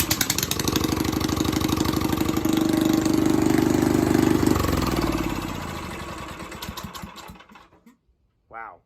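A Predator 301 engine fitted in a Yamaha Warrior ATV roars loudly as the throttle is held open for several seconds, then drops back and cuts out, followed by a brief faint sound near the end.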